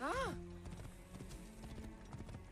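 Horse hooves clip-clop at a steady trot in the Assassin's Creed Origins video game, opening with a loud whinny before the rhythmic hoofbeats continue at moderate volume.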